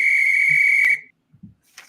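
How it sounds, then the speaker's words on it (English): Referee-style whistle blown once to signal a challenge flag, a loud steady shrill tone lasting about a second, followed by a few faint thumps and a soft brief rustle. "I want to hear the whistle and see the flag"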